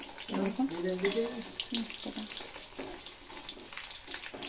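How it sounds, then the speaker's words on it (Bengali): Chicken pieces, already fried once, sizzle in hot oil during a second fry, a steady crackling hiss with bubbling bursts, moderately quiet, without talk. "দ্বিতীয়বার চিকেনগুলোকে দিয়ে আবার একটু ফ্রাই করে নিলাম"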